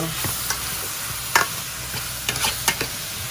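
Couscous stew ingredients are stirred in a pot, with a low sizzle under several distinct scraping and clinking strokes of the spoon spaced irregularly, close and fairly loud, with no speech.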